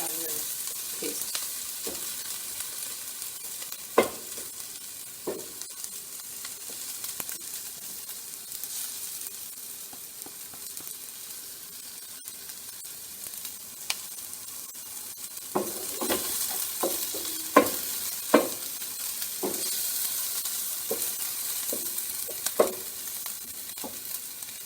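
Onions frying in a pan for masala dosa stuffing give a soft, steady sizzle with scattered clinks and scrapes of stirring, mostly quiet and sparse before becoming busier toward the end, with no talk.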